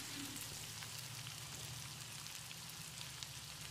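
Grated coconut frying in hot oil until crisp, a steady soft crackle and hiss that stays even and fairly quiet throughout with no voices.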